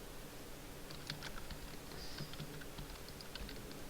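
Quiet, rapid keystrokes on a computer keyboard while hotkeys are set up for a StarCraft ranked ladder match, scattered irregular clicks over a low background hum, with no talking.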